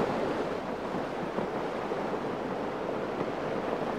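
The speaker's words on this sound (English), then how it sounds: "The ship crashed and rolled through mountainous waves as the winds lashed the tarpaulins" Stormy sea waves surge beneath howling wind in a continuous, dense roar around a ship, steady and fairly loud with no speech.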